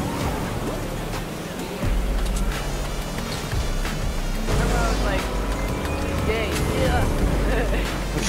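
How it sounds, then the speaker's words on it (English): A boat engine in the video game Fortnite drones steadily and loudly throughout, with a surge partway through and game sound effects layered over it. "Man, this boat loud as hell."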